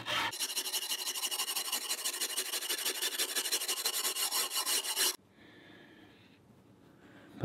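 A wire brush scrubs hard on a part from an antique drill press, a loud steady rasping scrape for about five seconds, then a stop with faint rubbing and handling noises.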